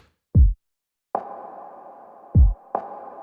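Electronic drums from a future bass track built in Cubase: two deep kick thumps alternating with two filtered rim shots, each rim shot's tone ringing on, in a steady sparse pattern with nothing else playing.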